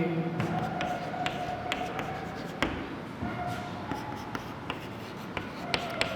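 Pen scratching steadily on paper while writing out a geometry problem, with quick repeated strokes and taps over a constant room hiss, close by, with no talking.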